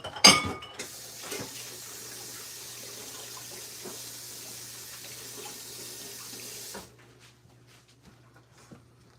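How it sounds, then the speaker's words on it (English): Water pours from a kitchen tap into a sink during hand washing, a steady rushing stream with a clatter at the start, then the flow shuts off and quiet follows. "I'm going to wash my hands real fast."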